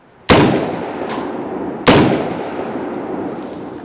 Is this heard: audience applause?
no